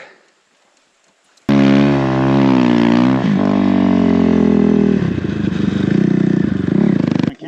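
Timbersled ARO 3S PRO snow bike engine starting up loud and close after near silence, then a steady roaring drone with rising and falling revs and shifts in pitch as it rides on.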